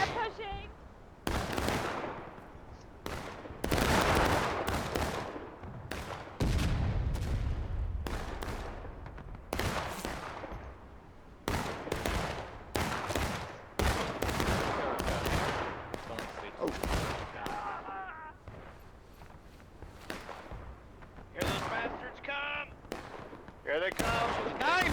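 Civil War reenactment battle with booming artillery and cracking musket volleys, loud irregular shots and reports rolling across an open field, with people talking between them.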